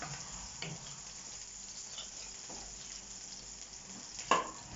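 Onion and garlic fry gently in oil for an outdoor paella, giving a soft, steady sizzle at low volume. A single sharp tick near the end stands out above it.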